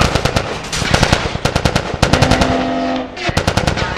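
Rapid bursts of automatic gunfire in The Last of Us, a video game played on the RPCS3 emulator, loud and close with short pauses between volleys.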